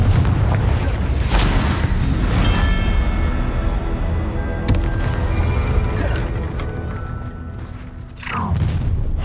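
Spell explosions from the video game Hogwarts Legacy rumble and crash in loud bursts during combat, with a strong hit near the start and another near the end over a dense game soundscape.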